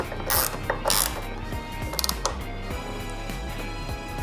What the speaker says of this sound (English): Now I just need to tighten it with some nuts